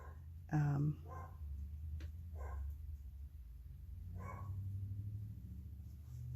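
A few sharp dog barks at fireworks, one louder yelp near the start, scattered over a low background hum with faint muffled voices.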